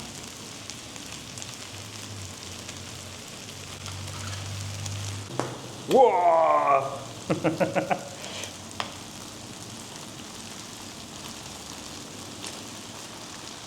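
Steady sizzling and frying hiss of rice in a paella pan over high heat fills the clip at moderate level, with a brief exclamation and a few clattering bursts partway through.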